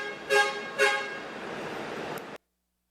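Two short car horn toots followed by a longer sustained honk, moderately distant over traffic noise, then cutting off abruptly.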